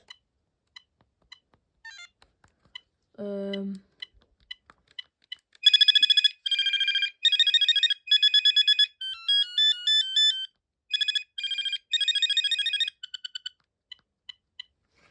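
A Binatone Icarus 2100 cordless phone ringtone plays a series of chirpy, beeping melodic bursts after a few faint keypresses and a brief low tone, clear and close.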